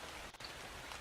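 Steady rain falls in the video game Ark, a dense even hiss of drops on surfaces filling the whole second, soft and constant with a brief dip midway.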